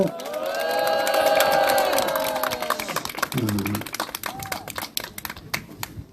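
Crowd cheering and clapping at an outdoor press conference by a political party in front of a former president's residence, a loud swell of cheers fading after a few seconds into scattered claps and shouts.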